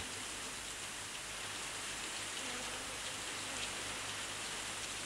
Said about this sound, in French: Et l'après-midi, tout naturellement, il s'est mis à pleuvoir.